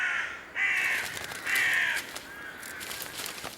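Crows in a snowy winter wilderness give two loud, harsh caws about a second apart, then a fainter third call, outdoors with light background noise and no talk.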